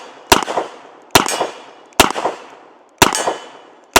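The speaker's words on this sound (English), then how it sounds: "All 7 of them fired." Ruger GP100 revolver with a six-inch barrel firing .38 Special rounds double action, loud sharp cracks at a steady rhythm of about one per second, each with a brief ringing decay, close by with no talking.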